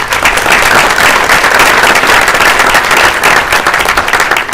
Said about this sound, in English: So if we can just give Tommy a round of applause.